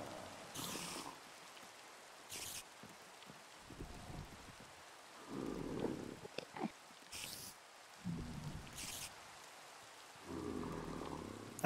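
Rain falling in the Minecraft game, played in VR during a nightfall horror map, a faint steady patter under short bursts of other game noises.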